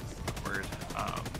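Rapid gunfire from Helldivers 2 during a fight against automaton robots: a dense run of sharp shots with whistling weapon tones, heard under a continuous game soundscape.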